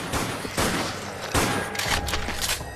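Power shots tearing through multiple zombies in Dead Nation on PS3, a rapid string of sharp pops and bursts at close range, with several heavier hits standing out among continuous game noise.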